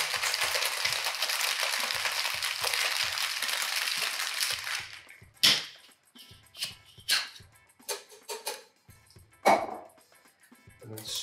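Ice and nettle tea rattle hard inside a cocktail shaking tin in a continuous, dense burst for several seconds, then give way to scattered sharp clinks and knocks.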